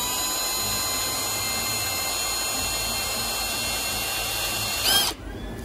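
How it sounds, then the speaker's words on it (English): A lathe cutting a recess for a fuel injector o-ring, a steady high-pitched machining whine that runs loud and unbroken before cutting off abruptly near the end, with no talking. "So I'm going to widen it by, well, putting it on a lathe really"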